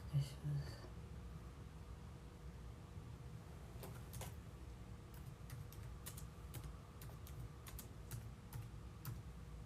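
Faint keyboard typing, with sparse key clicks at first, then a run of regular taps, all under a steady low hum in a quiet room, while someone speaks quietly.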